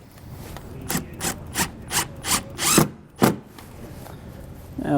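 A screw is driven in a series of short, rough, rhythmic rasping bursts to mount a Voyager side camera on a 2011 Coachmen Freelander RV. The bursts are close and fairly quiet, followed by a single louder stroke and then a pause.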